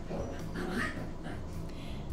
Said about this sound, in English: And I got my puppies out again today.